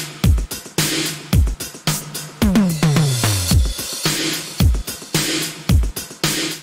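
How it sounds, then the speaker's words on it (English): A punchy synthwave electronic drum loop made in Serum, with booming kicks, snappy snares and a descending tom fill, repeating in a steady groove with nothing else playing. "the whole drum group sounds like this"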